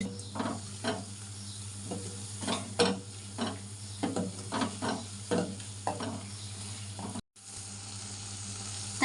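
A spoon mixes fried onion paste, black stone flower and spices in a pan for an egg curry, making rhythmic scraping strokes over a soft sizzle that cut out briefly near the end, with no voices.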